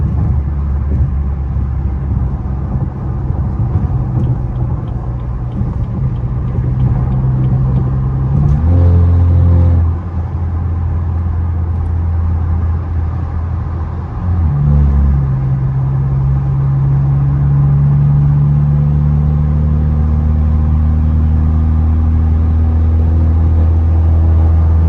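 A tuned BMW F30 328i with a stage 2+ engine drones loudly and steadily while driving, its pitch dropping and climbing through gear changes, with no talking.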